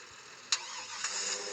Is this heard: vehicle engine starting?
yes